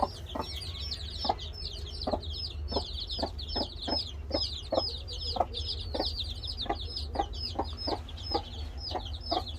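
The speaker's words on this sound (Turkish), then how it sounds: "Yavrular hemen annenin altına da giriyorlar" A Pekin bantam hen gives soft, regular clucks while her chicks peep continuously in high, rapid chirps, all close by over a low background rumble, with no talking.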